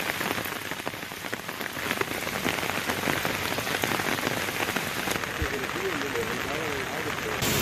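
Heavy monsoon downpour in Karnataka drums steadily on surfaces, a dense, unbroken hiss of rain that stays loud throughout.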